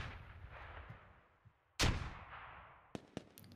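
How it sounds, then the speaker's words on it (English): A grenade blast in the military shooter Squad hits sharply and loud, then rolls off into a long echoing tail, with distant gunfire cracking in the background before and after. "Another grenade goes out."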